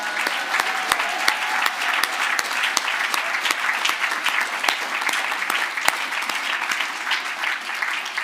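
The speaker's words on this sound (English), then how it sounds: "Can you please put your hands together for the man of the night, Mike Wild?" Sustained applause from a large crowd at an awards night, steady and enthusiastic with sharp individual claps standing out throughout.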